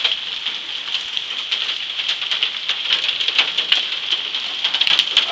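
Hail pelts a car in a dense, continuous patter of sharp ticks and clatters, loud and close, with no talking.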